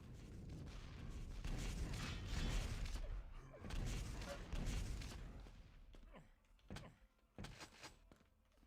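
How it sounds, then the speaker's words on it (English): Rocket jump blast in the Quake Live arena shooter, heard as a loud burst of explosive roar and noisy game action, followed later by several sharp, separate thumps and impacts standing alone. "He's gonna rocket jump up."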